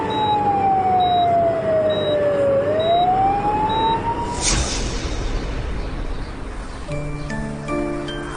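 An ambulance siren wails loudly nearby, one long tone sliding down and back up, then giving way to road and traffic rumble.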